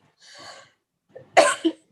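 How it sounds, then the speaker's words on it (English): A single close, sharp cough bursts out after a brief breath, followed by a short second hack. "A little cough and everybody gets worried."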